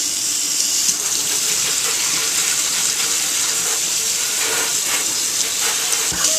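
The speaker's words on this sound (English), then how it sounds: "Let's hit it with the sprayer" A water sprayer hisses continuously onto the metal chassis of a 1941 Zenith Model 6-S-597 vintage radio, a loud steady spray with splashing close by.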